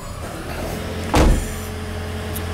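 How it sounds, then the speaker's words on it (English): A 2012 Lexus CT200h hybrid's petrol engine kicks in with a short, loud burst, then settles into a steady low hum under a faint background. "you just heard the motor just started up, so it switched off the battery and went back to the motor"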